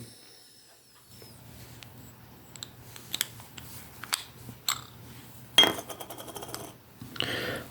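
Small metallic clicks and scrapes of a 2009 Ukrainian 2-hryvnia coin with a reeded edge being handled and flipped, with a brighter clink midway and a soft rustle near the end.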